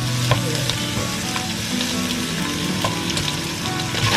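Garlic and onions sauté in a pan for pakbet with chicharon, giving a loud, steady close-up sizzle with light stirring clicks and scrapes throughout and no talk.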